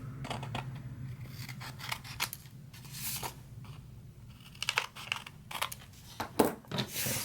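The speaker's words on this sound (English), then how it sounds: "snip it right on that line there. Snip off that edge." Scissors snip through craft scraps along a marked line in a string of quick, crisp cuts, close up and fairly quiet, with irregular pauses between snips.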